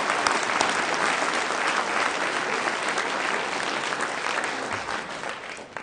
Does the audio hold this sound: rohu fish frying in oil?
no